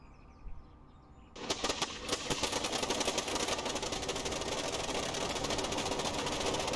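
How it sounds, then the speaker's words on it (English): In Microsoft Flight Simulator 2020, after a quiet start, a Blériot XI monoplane engine catches and clatters into a steady, rapid, loud running rhythm that continues to the end. "So let's start the engine and try to take off."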